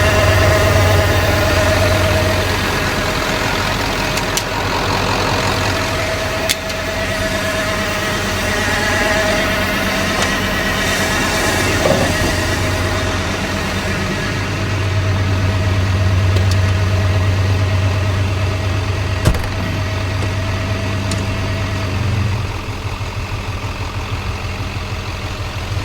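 An old OBS Ford pickup truck that sat for years runs at a steady, rough low idle, up close and continuous, with a few knocks and clunks around it and the engine note rising slightly at times.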